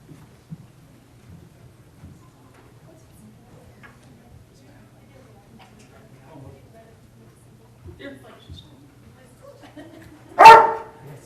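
A single loud dog bark rings out near the end of a city council meeting, following long stretches of quiet room noise and faint murmurs.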